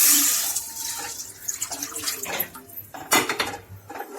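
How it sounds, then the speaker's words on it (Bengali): Milk poured into a kadai for chhanar payesh, with a steady liquid splash and light clinks of metal cookware close by, no voices. "এইবারে ওই কড়ার মধ্যে দুধ দিয়ে দেব।"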